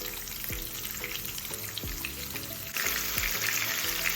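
Pieces of masala-coated fish fry steadily in a hot pan, a continuous close sizzle with a few soft scraping stirs, turning louder and brighter partway through as pieces are flipped.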